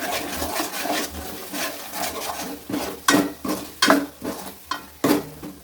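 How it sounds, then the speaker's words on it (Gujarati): A spoon scrapes and stirs salt and cumin in a pan in repeated strokes, with metallic clinks and a faint sizzle underneath, no voices. "સારી રીતે આપણે મિક્સ કરી લેશું"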